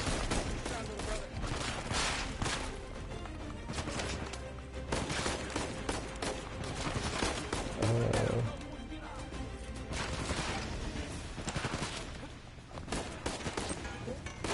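Gunfire in the Uncharted 4 video game comes as dense bursts of shots and rattling fusillades aimed at the player, mixed with game noise and with people talking over it throughout.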